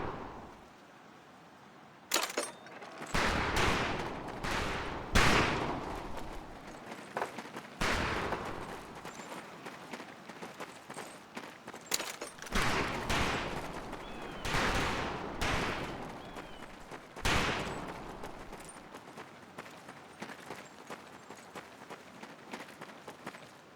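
Rifle gunfire on a boot camp firing range in the Medal of Honor video game, several groups of sharp cracking shots in irregular bursts separated by short pauses, with movement sounds between.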